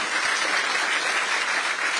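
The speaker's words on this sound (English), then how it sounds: "Let's give Grace a round of applause" An audience applauding a ten-year-old girl, steady dense clapping from a crowd, fairly loud and continuous for the whole moment.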